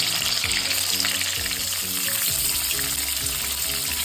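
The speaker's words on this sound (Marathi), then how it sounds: "आता आपण याच्यामध्ये सात आठ कढीपत्त्याची पाणी घातली आहे त्यानंतर आपण इथे कारले सोडणार आहोत तेलामध्ये" Bitter gourd sizzles and spits steadily in hot oil with curry leaves, a dense, continuous crackle close by with no voices.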